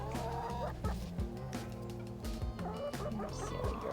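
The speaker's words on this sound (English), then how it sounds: "I love these chickens." Chickens cluck near and loud in a backyard garden, with busy overlapping calls over the whole clip.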